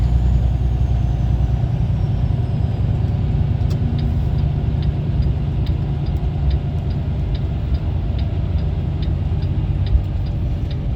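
Truck engine droning loud and steady from inside the cab while the driver shifts up through the gears toward seventh, a constant low rumble with faint regular ticking.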